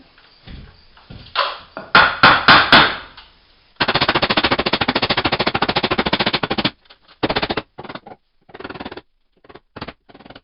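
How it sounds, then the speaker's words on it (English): Rapid bursts of sharp hammer blows, a fast continuous run of strikes followed by scattered single knocks, loud and close, as a board is hammered into place while installing an aluminum attic ladder. "Yep, a little bit of hammering is going to be required."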